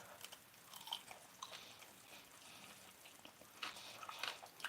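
Someone bites into and chews crunchy homemade french fries, faint close crunches and mouth sounds in an irregular rhythm, with no talking.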